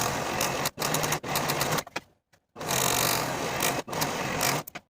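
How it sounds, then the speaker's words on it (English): A serger runs in several bursts of loud, close whirring as it finishes the raw center back edges of suit jacket pieces, with brief stops and one longer pause between runs. "I'm going to take them to my serger and finish the raw edges of the center backs separately for both pieces."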